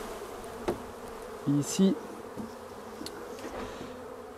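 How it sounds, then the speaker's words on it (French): Honeybees are shaken off a hive frame, giving a steady close buzzing drone with a few thumps and brief rustles; a person says a single word. "je vais secouer, donc, comme je dis, les abeilles"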